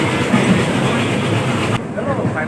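A moving train rumbles and clatters steadily on its rails, close and loud, with a sudden shift in tone near the end as the carriage sound changes; faint voices mix in.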